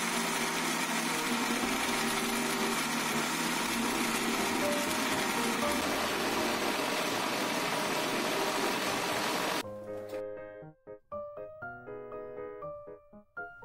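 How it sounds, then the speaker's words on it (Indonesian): An electric blender grinds dried garlic and shallots in oil with no water, running as a loud, steady whirring drone for about ten seconds before it stops and leaves a few clattering knocks. "Jadi aku itu ngeblendnya juga nggak pakai air ya, cuma pakai minyak aja."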